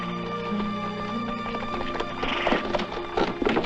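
Horses from a 1961 adventure film scene, hooves clip-clopping with neighing and whinnies over a busy background of music and ambience, the hoof beats growing louder and more insistent toward the end.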